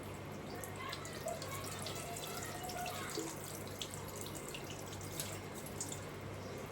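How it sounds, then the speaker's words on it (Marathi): Cold water from the fridge poured over boiled vermicelli in a strainer for homemade falooda, a soft steady trickle and patter of water running through, faint and continuous with a few brief drips standing out. "हे जे थंडगार पाणी आहे फ्रीजमधलं आता हे ह्याच्यावर घालतीये शेवयांवर"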